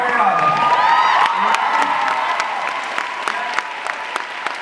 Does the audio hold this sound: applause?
yes